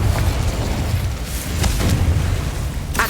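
Fire spell explosions in Hogwarts Legacy, heard as dense rumbling booms and crackling bursts in continuous game combat noise, with a sharper burst near the end and no talking.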